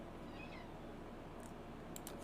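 A cat meows faintly in the background, one soft, brief call in an otherwise quiet room.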